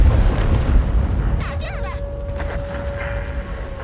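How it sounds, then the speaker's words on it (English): Light tank firing on the player's tank in World of Tanks: dull booming cannon reports and impact bursts over steady engine rumble, fairly close and loud, with brief metallic whines and a sustained tone in the middle. "As a light tank shoots me"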